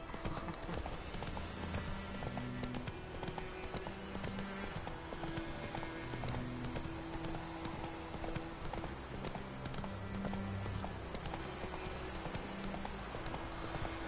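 Steady clip-clop of horse hooves in The Witcher 3: Wild Hunt trots on at an even rhythm throughout, with a low musical drone underneath.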